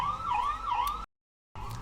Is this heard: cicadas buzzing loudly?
no